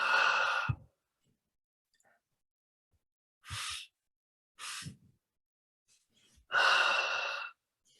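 Slow meditative breathing, a few long airy inhales and exhales separated by quiet pauses, close and soft, with no speech.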